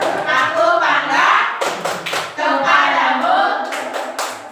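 A group in a teacher workshop session joins in a tepuk salut clapping routine, with rhythmic hand claps and thumps that come in bursts while several voices chant loudly over them.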